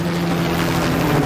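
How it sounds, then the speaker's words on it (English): A helicopter closes in during a getaway scene in the game As Dusk Falls, heard as a loud, steady rotor and engine drone with a low hum, filling the short moment alone. "Chopper's incoming."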